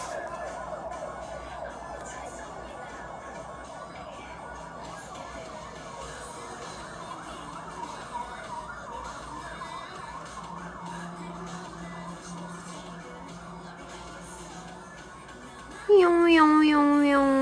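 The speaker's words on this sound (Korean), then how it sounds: "갑자기 삐용삐용 소리가 나네" Faint, distant emergency-vehicle siren wailing outside the lodging under a voice talking for most of the stretch, then a louder, closer rising tone at the end.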